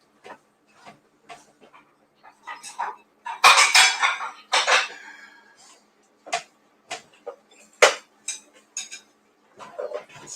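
Waffle brunch at a home kitchen: a plate and fork clink and scrape in short, sharp bursts, some fairly loud and close, with quiet gaps between them.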